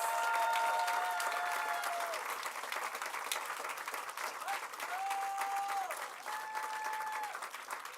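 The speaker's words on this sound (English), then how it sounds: "Please give our staff a round of applause." Audience applauding Boulder city staff at a public event about the Sundance festival moving from Utah to Boulder, a sustained, dense clapping with a few cheers and whistles rising above it.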